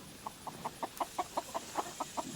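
A steady run of short, evenly spaced clucks from nearby chickens, about a dozen in quick succession, with no one talking.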